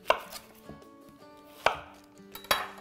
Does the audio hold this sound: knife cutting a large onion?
yes